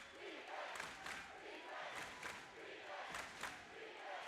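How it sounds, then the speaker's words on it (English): Home crowd cheering and yelling in a gym during a late-game defensive stand at a boys' Class C1-3 district basketball final, Concordia against Bridgeport, a steady roar with sharper shouts rising above it, heard from a distance. "Concordia crowd is getting loud"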